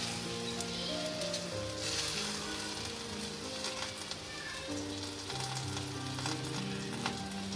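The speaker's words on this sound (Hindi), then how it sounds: "इसको मीडियम से भी कम आंच के ऊपर जो है वो फ्राई करेंगे" A garlic paratha fries in oil on a tawa over low heat, giving a steady, close sizzle that holds even and unbroken throughout with no talking.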